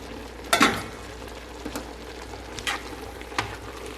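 Shrimp, spicy sausage and cabbage fry in a pan with a steady soft sizzle, broken by a few sharp clinks and scrapes of a utensil stirring.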